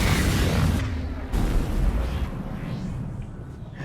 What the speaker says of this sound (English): I wasn't actually expecting the grenades to take out the entire group.